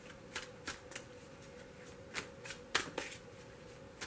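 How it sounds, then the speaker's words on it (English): A deck of tarot cards is shuffled by hand, giving soft, faint papery riffles and flicks in irregular bursts over a quiet hum, close to the listener, with no talking. "I just like to shuffle them a little bit like this"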